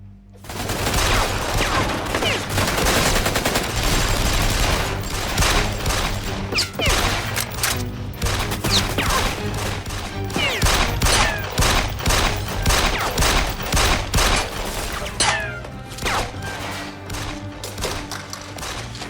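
Heavy gunfire in a nightclub-style raid during a Turkish crime drama, with dense overlapping bursts of automatic and rapid shots filling the whole stretch loudly, over a low steady music-like drone.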